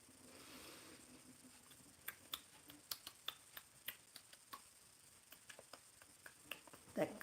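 A person makes a series of sharp, dry clicking sounds with the mouth or fingers to imitate how mantis beings communicate, about a dozen irregularly spaced clicks, close and fairly quiet, no talk heard.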